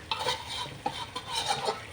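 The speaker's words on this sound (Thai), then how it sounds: "เราลวนปลาไปนะคะ" Catfish sizzles in a small wok while being stirred and scraped around for a traditional Thai curry, a steady crackle with a few louder scrapes.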